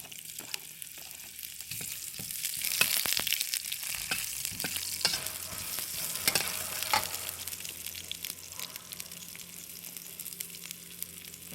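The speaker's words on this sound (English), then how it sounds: "in the same wok, I put some onion," White onion sizzles steadily in a hot wok, a loud continuous crackle with occasional scraping stirs and spatters throughout.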